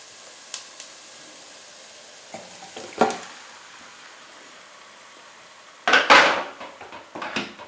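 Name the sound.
tomatoes added to pot of simmering ketchup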